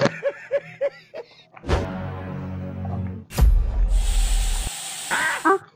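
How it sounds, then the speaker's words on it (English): A long hissing spray from an aerosol can, bursting on after a few squeaky vocal sounds and an earlier short whoosh, loud and close. "Why are you spraying that thing on me?"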